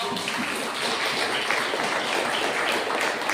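Congregation clapping in applause at a church service, a dense continuous patter of many hands held steadily for a few seconds, fairly loud with no speech over it.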